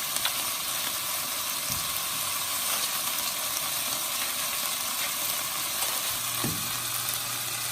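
Meat browning in a pan with oregano, salt and pepper, giving a steady close sizzle and hiss with occasional soft stirring scrapes.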